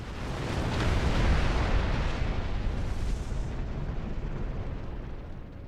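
Dilithium burn weapon attack from a starship in Star Trek Online, a loud sustained roaring rush of energy that swells, holds for several seconds and slowly fades, with no voices.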